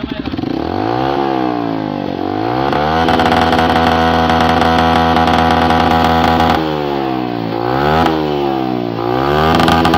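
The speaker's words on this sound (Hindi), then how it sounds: "किस तरह का साउंड इस बाइक का हुआ है, जो कि अब मैं स्टार्ट करके आपको दिखाता हूँ।" A loud BS6 motorcycle engine with a modified silencer and a harsh, raspy exhaust revs repeatedly, climbing and dropping in pitch between bursts of throttle, close to the microphone.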